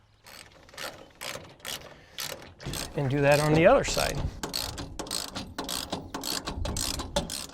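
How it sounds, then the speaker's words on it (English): A 3/8 ratchet turning a 1/2 inch socket to tighten a clamp on a pickup bed cover rail clicks in quick repeated bursts of ratcheting, close and fairly loud, with a short voiced remark partway through. "You'll use a 1/2 inch socket, 3/8 ratchet."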